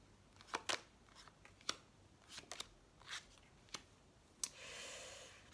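Tarot cards being handled close by: sharp riffling snaps and slides of shuffling and drawing, ending in a soft sustained brushing swipe, quiet and intimate with no talk.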